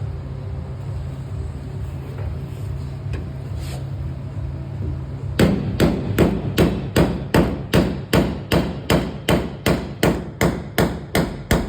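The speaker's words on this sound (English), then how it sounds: "I want to hammer this to like a kind of a V point" Steady ringing hammer blows on a metal car body panel being shaped into a V point, about a dozen evenly spaced loud strikes following several seconds of droning background noise.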